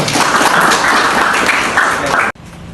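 A class claps during a school lesson on hikayat literature, a loud burst of hand clapping that stops abruptly near the end, leaving a quieter room.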